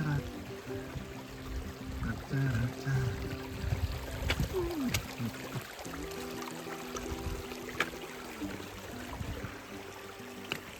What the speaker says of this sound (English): little stream crossing